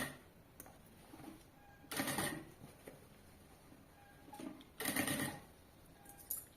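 A sewing machine stitches a convertible bag that turns into a backpack, in two short bursts of rapid clatter separated by quieter handling and fabric rustle.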